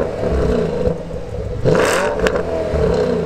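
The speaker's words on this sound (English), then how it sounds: "Let's give it a little rev now and show you what it sounds like with a few revs." A Porsche Panamera GTS engine revs up loudly nearby, the roar rising sharply midway and holding steady with a mechanical whir underneath.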